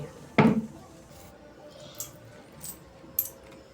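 Coins clinking out of an opened bamboo piggy bank, one sharp metallic clatter near the start followed by a few faint, scattered clinks in a quiet room.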